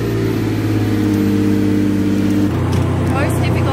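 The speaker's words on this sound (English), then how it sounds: "So this is how you turn on a Diablo." Lamborghini Diablo engine idling loudly with a steady low rumble, shifting in pitch partway through as the car is started and run, heard up close with no talking.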